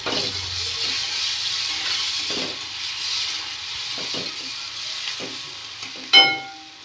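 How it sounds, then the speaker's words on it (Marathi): Coriander leaves hitting a hot oil tempering while cooking a yellow potato bhaji: a steady close sizzle runs throughout, broken by soft stirring scrapes and one sharper pop near the end. "आता मी ह्याच्यात थोडीशी फोडणीमध्ये कोथिंबीर घालून घेणार"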